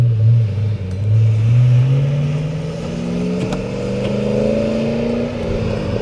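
A Ford Mustang GT engine with Mac mufflers revs and rumbles steadily through a deep exhaust, pitch rising and falling across several throttle pulls, close and loud with no talking.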